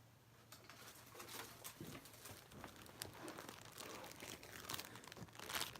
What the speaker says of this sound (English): usually I can just sweep it away and back into a plastic bag